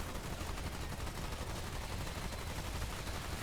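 Enemy gunfire in the Remnant 2 video game, a dense rapid burst of shots rattling continuously for a few seconds, loud and unbroken, with no voices.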